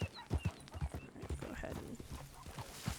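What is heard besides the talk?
horse hooves in video game Red Dead Redemption 2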